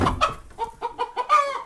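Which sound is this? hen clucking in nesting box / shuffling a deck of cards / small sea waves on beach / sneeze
hen clucking in nesting box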